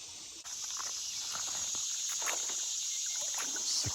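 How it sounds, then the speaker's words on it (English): Cicadas on a farm drone in a dense, continuous high-pitched buzz that fills the background, steady and moderately loud, with a few light rustles and taps underneath. "Cicadas, man."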